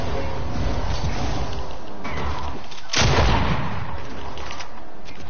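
A single heavy gunshot booms out in a horror video game, sharp and loud against a continuous rumbling, noisy background.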